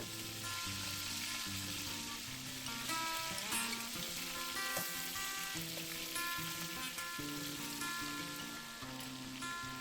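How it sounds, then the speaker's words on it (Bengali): Prawns sizzle and spit in hot oil with a constant crackling hiss, under soft melodic background music. "আর এক এক করে চিংড়ি মাছগুলোকে তেলের মধ্যে দিয়ে দেব।"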